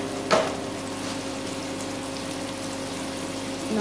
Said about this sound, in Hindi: प्याज डाल देंगे, साथ ही साथ में नमक डाल देंगे ताकि प्याज हमारी अच्छे से फ्राई होए।